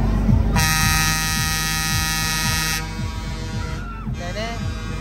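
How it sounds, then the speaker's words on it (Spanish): Loud sustained horn blasts ring out over the pounding music and crowd noise of a fairground ride, the La Rana spinning attraction at the Cardedeu fair; a long tone holds for a couple of seconds, then a shorter honk follows. "Pelea de bocinas, pelea."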